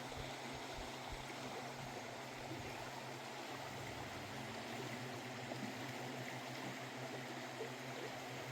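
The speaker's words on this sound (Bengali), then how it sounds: "একটা জলের স্রোতও পাচ্ছেন আপনারা" Muddy, rain-swollen Sitong River current in Alipurduar, rushing steadily and close by as a continuous broadband wash with no talk.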